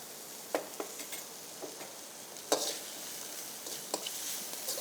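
Chettinad masala powder of chilli, coriander and a little turmeric, with mushrooms, sautéing in oil, a soft steady sizzle broken by several sharp stirring scrapes and clinks of a spoon against the pan, close and without talk.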